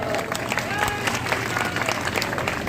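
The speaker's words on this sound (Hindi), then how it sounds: "ताली बजाओ सब मिलके" Audience clapping at a Hindi humorous poetry gathering (kavi sammelan) in Shamshabad, a dense steady patter of many hands held throughout, with crowd murmur and a voice mixed underneath.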